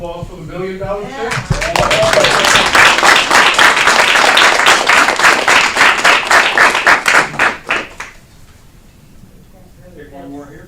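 An audience at a federal transportation funding event applauds a $1 million check, a burst of dense, rhythmic hand clapping that swells, holds for several seconds, then tapers off, with brief speech before and after.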